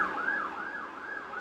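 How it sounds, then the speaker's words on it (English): An ambulance siren passes on a busy street, its wailing tone rising and falling steadily at a moderate distance with traffic rumbling underneath and no talking. "Pardon the ambulance."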